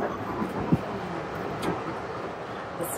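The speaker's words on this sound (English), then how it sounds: "family, you should come and ride these trains" Passenger train ride in Vancouver, a low, continuous rumble of the moving carriage with faint rattles and a small knock, heard from inside at moderate level.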